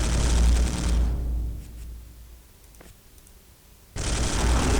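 Gunfire aimed at a Genestealer in the Space Hulk video game: a loud, dense burst of rapid automatic shooting, a near-silent pause with a few faint clicks, then a second sustained roaring volley at the end.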